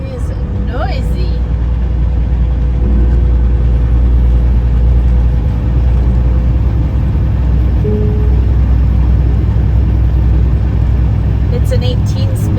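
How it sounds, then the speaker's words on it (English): A noisy 18-speed truck cruises along Interstate 81 near Syracuse, producing a loud, unbroken low engine and road roar from inside the cab. "Our truck is noisy."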